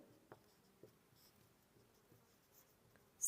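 A pen moves on paper during a maths lesson on quadratic equations, with faint scratches and a few soft taps spread over a few seconds in a quiet room.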